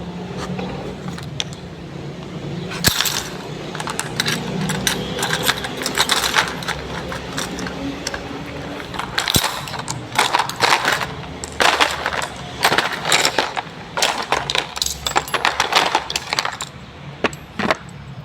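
Metal objects such as a key, a spoon and stapler staples snapping onto a magnet, heard as a run of sharp, irregular clicks and clacks close by, with no talking.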